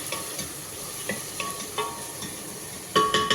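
Ginger, garlic and cumin paste fries in a pan, a soft steady sizzle broken by short scraping stirs of a spoon, with sharper clinks near the end.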